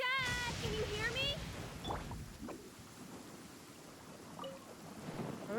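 A thunderstorm with rain in Genshin Impact rumbles steadily beneath a character's voice, with a constant wash of rainfall throughout.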